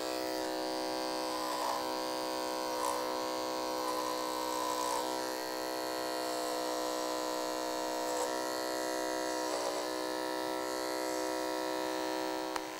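Electric hair clipper cutting extremely thick hair in a men's short haircut, a steady close buzzing motor drone that holds continuously with slight changes in load as the blades move.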